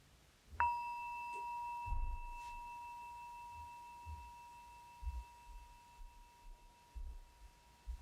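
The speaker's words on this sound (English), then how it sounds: "when I ring the bell, I invite you to simply pause" A meditation bell is struck once, giving a clear ringing tone that sustains steadily and slowly fades over several seconds amid quiet room sounds and soft low thumps.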